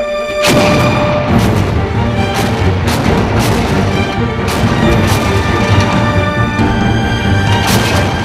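Rapid gunfire on a military firing range: many loud, sharp shots close together in an almost continuous volley with echoing booms, lasting several seconds with no pause.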